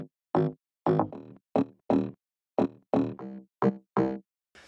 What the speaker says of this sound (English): Just a really nice crunchy bass, but not too full